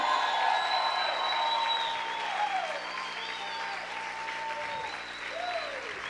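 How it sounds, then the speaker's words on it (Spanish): A church congregation claps and shouts for the King during a Spanish-language sermon, a sustained wash of crowd applause with some high cheering and voices mixed in. "Grita y aplaude fuerte al Rey."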